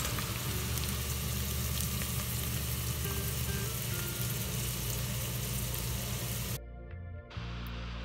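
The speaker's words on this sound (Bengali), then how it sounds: "পেঁয়াজ ভেজে নিচ্ছি অল্প করে।" Onions fry in oil for a shrimp and watermelon rind curry, giving a loud, dense, continuous sizzle close by that cuts out abruptly near the end, followed by a brief quieter moment before the hiss returns.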